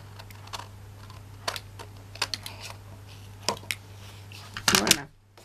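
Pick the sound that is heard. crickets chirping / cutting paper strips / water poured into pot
cutting paper strips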